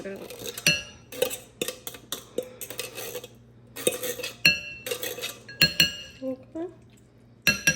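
A spoon or fork scrapes and clinks against a dish while leftover steak and chicken are dug out in a sunny backyard, giving a run of sharp, irregular metallic taps and scrapes close by with a steady low hum underneath.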